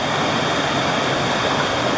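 Creek water rushing steadily near Elkmont in the Smoky Mountains, a close, loud, unbroken wash with no voices over it.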